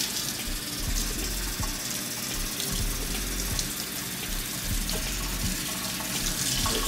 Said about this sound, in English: Ready to rinse?